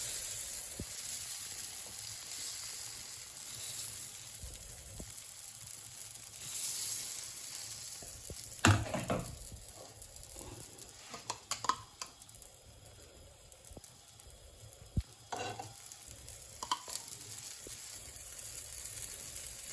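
Green gram dosa batter sizzling on a hot pan, a soft steady frying hiss throughout with a few scrapes and small clatters as sesame oil is added.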